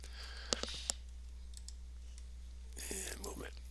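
A computer keyboard, used while coding player movement with an input system, gives a quick burst of sharp key clicks early on, then falls quiet apart from faint background noise and a brief rustle near the end.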